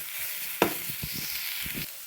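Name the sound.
sautéing ingredients in a pan for kothu roti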